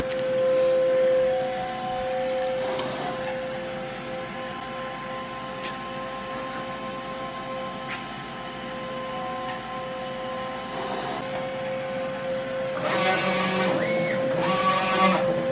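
An i3200-head DTF printer runs a printhead cleaning cycle, with a steady tonal machine whine throughout, brief mechanical bursts around the middle and louder pump and carriage noise near the end; no one talks.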